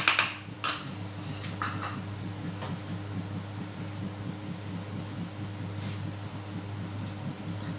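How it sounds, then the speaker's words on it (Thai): Tapioca starch is stir-fried in a pan over low heat: a spatula clinks and scrapes against the pan a few times, loudest at the start, over a steady low hum of a fan or hood. No one speaks. "นำแป้งมันของเรานะครับ ลงไปผัดนะ ให้แป้งมันสุก"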